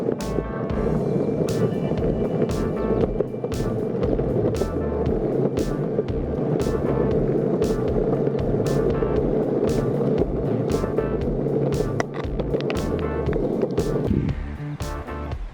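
An electric skateboard, the Black Hawk Electric Street V3 carrying a rider of about 190 pounds, rolls steadily with a constant wheel rumble and motor drone, broken by regular clicks from pavement joints, easing off near the end.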